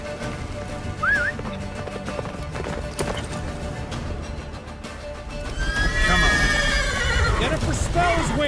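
Roach, a horse in The Witcher 3 video game, gallops with steady hoof clatter and lets out a loud rising whinny, while voices and a swelling orchestral score play over the scene.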